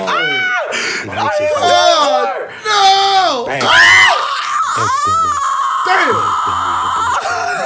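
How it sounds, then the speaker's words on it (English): A loud, drawn-out dying scream from a video game wails and breaks through several rising and falling cries, close and harsh, with a brief gap partway through. "That was a dying scream."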